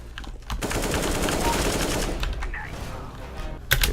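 M4 or AK rifle sprays in CS:GO deathmatch, a sustained rapid automatic burst lasting a few seconds after a brief pause, loud and close, ending with a sharp final crack.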